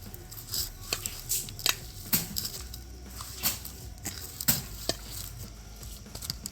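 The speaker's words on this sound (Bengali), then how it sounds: "এবার এগুলোকে আমি সব কিছু দিয়ে ভালোভাবে মেখে নেব।" Spiced dough with roasted cumin powder, Maggi masala and garam masala is kneaded by hand, giving soft repeated squishing and slapping sounds in an uneven rhythm, close up and with no talking.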